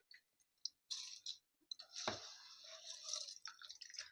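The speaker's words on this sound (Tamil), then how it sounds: "அரிசிலேருந்து தண்ணி வடிகட்டிடுங்க" Water dripping and trickling in uneven bursts as it drains from seeraga samba rice, with a brief thud and then a steady drain of liquid, fairly close and otherwise quiet.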